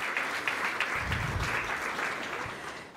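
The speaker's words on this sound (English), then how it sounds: "So a big round of applause for our students and dedicated teachers." An audience at a school function for handicapped students applauds in a steady, moderately loud wash of clapping, with a few louder bursts and no speech over it.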